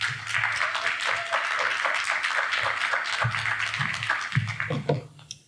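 An audience at the AWE 2023 conference applauds to welcome a speaker, a steady wash of clapping from the crowd that fades out near the end.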